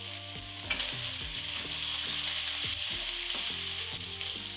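Onions hitting a hot pan with browned soy-sauced pork, sizzling and frying steadily and loudly up close, with a busy crackling hiss and a low kitchen hum beneath.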